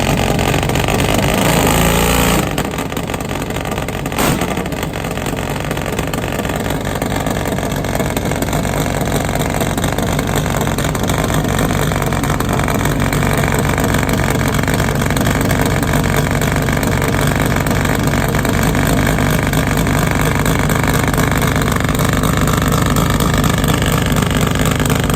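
A Top Fuel nitro-burning Harley drag bike engine runs loud and continuous for about 25 seconds, a dense, steady roar with a sharp burst near the start and no talk over it.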